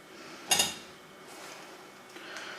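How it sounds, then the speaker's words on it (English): Mushrooms tumbling into a pan of beef land with one sharp clatter of food and utensil against metal, followed by a faint low sizzle and soft kitchen handling sounds. "And then we add in all the mushrooms."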